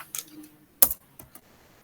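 A few sparse keystrokes are typed on a computer keyboard while entering programming code, isolated clicks spaced irregularly with quiet gaps between them, close and soft.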